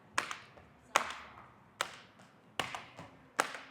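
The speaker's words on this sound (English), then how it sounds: "So do a couple penguin claps for me." Five sharp slaps in a fairly even rhythm, roughly one every 0.8 seconds, as hands strike the thighs between rope jumps in penguin claps during a double-under jump rope drill. They are close and crisp, with no voices.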